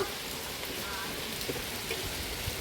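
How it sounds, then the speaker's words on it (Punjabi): Steady heavy rain pours down in a dense, even hiss, with a few faint louder drops standing out and no voices. "ਇੰਨਾ ਮੀਂਹ ਪੈ ਰਿਆ ਹੁਣ ਆ ਦੇਖੋ"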